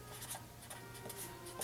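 Pen or pencil writes a number by hand during a math lesson, giving soft scratchy strokes in short irregular bursts close by over a faint hum.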